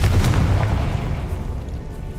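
A Confringo blasting spell explodes in Hogwarts Legacy, a loud, close, low-heavy boom whose rumble decays over about two seconds with no voices.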